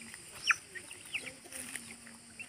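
Parrot-beak chicks eating tomatoes make soft, faint clucks and short chirps scattered over a low background hum.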